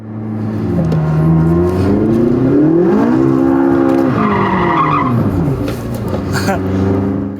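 McLaren 675LT tires squeal and skid through a series of serpentine bends while the engine roars, its pitch rising and falling with each turn.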